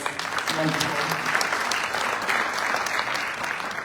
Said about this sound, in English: Please give another round of applause for this.